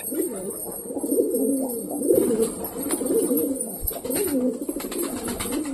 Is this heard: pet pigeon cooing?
yes